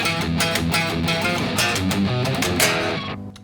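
A dense, distorted electric guitar riff, played with fast, chugging down-picked notes and sharp accents, loud and driving, with no voices.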